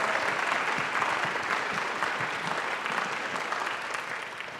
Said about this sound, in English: Could we give them a resounding round of applause for their efforts?